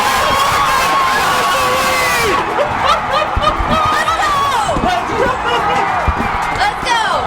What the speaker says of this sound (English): This crowd is going absolutely Brockton wild.